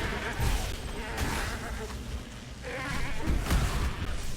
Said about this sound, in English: Stupid goats.